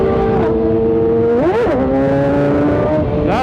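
A sport bike in third gear accelerates hard along Houston city streets, its engine whine loud and close, climbing in pitch, dipping briefly near the middle, then rising again without any voices.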